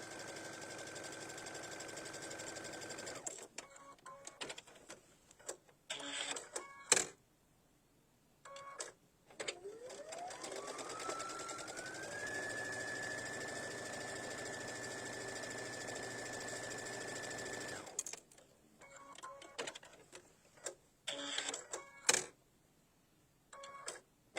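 A sewing machine stitches lines across a Happy Hues quilt block, its motor whirring close in several short bursts and one long sustained run whose pitch climbs as it speeds up, separated by brief pauses, with no talking.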